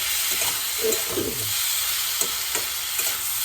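Ginger and snakehead fish frying in a little oil in a pan for a bottle gourd fish curry, a dense close sizzle with a few scraping stirs and clinks in the first half, steady throughout, no talk.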